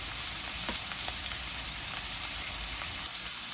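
Onions and green chillies with salt being sautéed in a pan for chicken kurma, giving an even, close frying hiss with little variation and a faint stir or two underneath.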